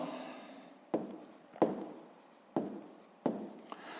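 Numbers are being written by hand on paper during a 6th-grade math exercise: four distinct scratchy pen strokes spaced about evenly apart, close and fairly quiet, with no speech.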